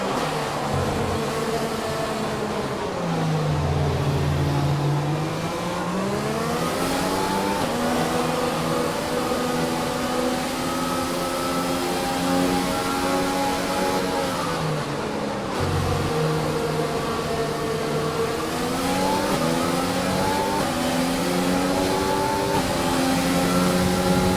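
A Formula 1 car engine in the racing game F1 2020 at the Canadian Grand Prix in Montreal whines at high revs, rising and dropping repeatedly through gear changes, loud and continuous with no talking.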